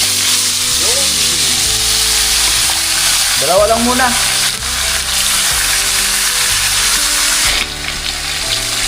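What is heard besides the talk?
frying milkfish in oil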